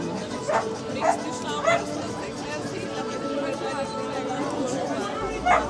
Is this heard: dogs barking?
yes